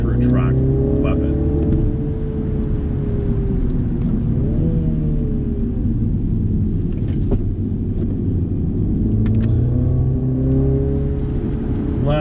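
A 301-horsepower 2020 MINI JCW Clubman engine drones and revs steadily while driving the winding Tail of the Dragon road, a loud continuous in-cabin rumble with rising and falling pitch as it accelerates and shifts, with someone talking over it.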